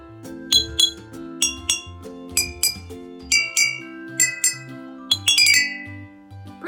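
Drinking glasses struck with a stick ring out in a melodic sequence, each clear ping at a different pitch, tapped one after another in a steady rhythm.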